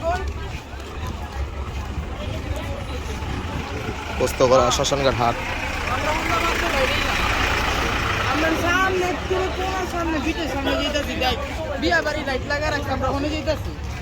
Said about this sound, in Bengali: আরেকটি ট্রাক চলে আসছে গরু নিয়ে